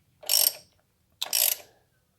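A ratchet snugs down the valve cover nuts on an MGB engine with a cork gasket, giving two short, close ratcheting bursts about a second apart, each lasting roughly half a second, with quiet between them.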